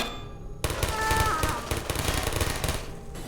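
Turrets open fire in Portal, a sudden loud burst of rapid automatic shots that rattles on steadily for several seconds after a brief quieter lead-in.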